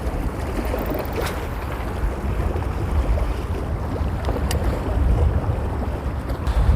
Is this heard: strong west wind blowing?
yes